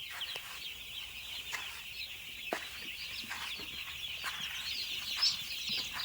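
Broiler chicks in a brooder cheep in a constant high chorus while eating and drinking, with soft pecking taps against feeders scattered through it and no voices.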